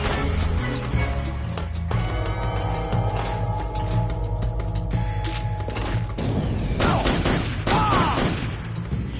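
Volley of gunfire from soldiers in Metal Gear Solid 3, with loud, dense bursts of shots and mechanical clatter spread across several seconds, with quieter gaps between the louder clusters.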